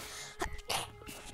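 A single close, fairly quiet sneeze-like burst with a short intake, then a second sharp exhalation, set against a soft steady background hum.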